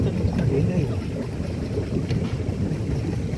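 A pedal boat churning through Karlad lake water in Wayanad, a low steady rumble of paddling and water with light wind, close and continuous.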